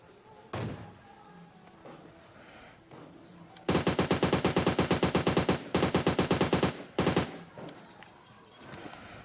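Gunfire in PUBG Mobile: a couple of isolated thumps, then a loud rapid automatic burst lasting about three seconds, followed by a few more quick shots.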